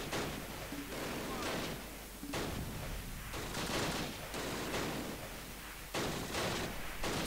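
Dense, continuous battlefield gunfire from the Close Combat war strategy game, with overlapping rifle and machine-gun bursts and distant booms filling the whole stretch at a steady, loud level.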